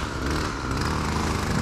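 A string trimmer cuts plants in a flower bed during a storm cleanup, its small engine buzzing loud and steady at close range throughout the short stretch.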